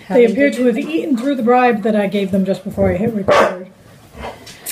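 Two household dogs yip and bark briefly in the background while a person talks steadily over them at close range.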